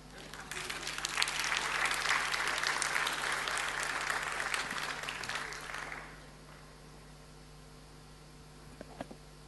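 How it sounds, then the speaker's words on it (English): Conference audience clapping hands after a speaker's talk, a full burst of applause lasting about six seconds before fading abruptly to near silence with faint room noise. "And now you may clap your hands."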